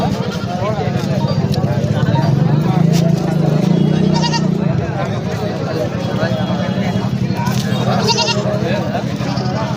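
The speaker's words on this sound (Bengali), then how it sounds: "অসংখ্য ছাগল দর্শক অসংখ্য ছাগল" Goats bleat amid a crowded livestock market, repeated calls rising over a loud, continuous murmur of people talking and trading.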